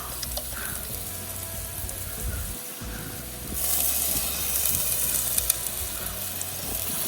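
Misal masala sizzling and cooking in a pan, a soft steady frying hiss with occasional stirring clicks, the sizzle growing brighter and louder partway through.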